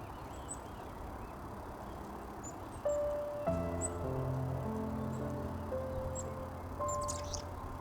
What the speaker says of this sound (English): Oh no, there's a big bird coming. I can hear that one.